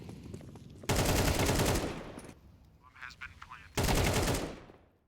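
Mag-7 shotgun fire in a Counter-Strike match, two loud broadband bursts about three seconds apart, each lasting roughly a second, with quieter game noise between them.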